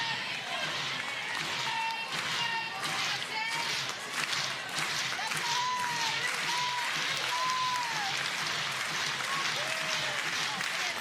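At a pro softball game between the Spark and Cascade, the crowd cheers and claps steadily for pitcher Kelly Maxwell. A commentator's voice talks over the continuous roar, with occasional whistles rising above it.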